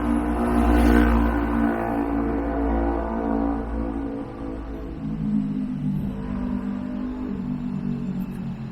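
Cars driving and revving their engines on a city street at night in Astoria, Queens, a loud close engine roar that swells and fades as vehicles pass, with traffic rumbling continuously underneath.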